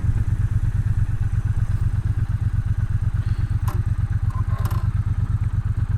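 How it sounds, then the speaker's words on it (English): A Triumph Bonneville motorcycle engine idles steadily on its kickstand, a close, even low-pitched throb with a rapid regular pulse throughout, plus a few faint clinks in the background. "the kickstand went down on my Triumph Bonneville, and it didn't shut off."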